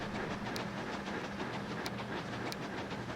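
A steam passenger train running in Transport Fever 2, a steady rumbling chug with a few sharp clicks from the rails, constant and fairly faint, with nobody speaking.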